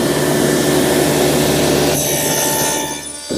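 A table saw fitted with a dado blade cutting tenons in wood, a loud continuous whining cut that changes pitch near two seconds and stops abruptly near the end, with no voices.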